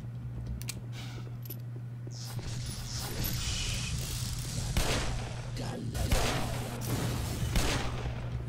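Gunfire from combat in the Black Mesa video game, with sharp shots scattered at first and then turning denser and louder, over a low steady hum.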